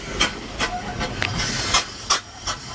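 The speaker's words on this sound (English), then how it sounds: "you see a little cloud of steam coming out the back, nice and wispy" The Vanderbilt Racer steam car vents steam in sharp repeated hisses, about seven bursts spaced irregularly over a low rumble, close and fairly loud, as it lines up for a Memorial Day parade.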